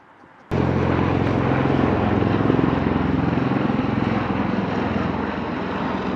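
After a brief quiet moment, an aircraft engine suddenly roars up to a loud, steady, broadband rumble that holds for several seconds as the plane takes off from the runway, with no talk.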